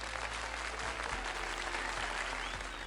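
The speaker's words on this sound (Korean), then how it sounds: "우리 예배에서 은혜 주신 하나님께 먼저 감사 박수 올려드릴까요?" A church congregation claps in thanks to God at the close of a Sunday service, a brief steady burst of applause over a low hum, no voices standing out.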